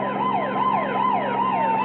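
A police car siren wails during a car chase, its tone sweeping up and down in a steady repeating cycle, loud and close over a low engine hum.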